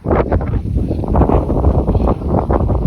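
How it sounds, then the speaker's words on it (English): Hard wind gusting across a microphone on a Dolly Sods hiking trail, a loud constant rumbling buffet with surging gusts, alone and without talking. "Wind's blowing a little hard."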